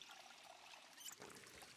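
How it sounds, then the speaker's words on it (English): Filling a water bottle in Project Zomboid makes a short, faint trickle of pouring water, steady and quiet for under two seconds, with no voices. "I'm gonna fill the water bottle"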